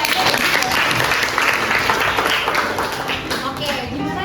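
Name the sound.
audience applause at a school event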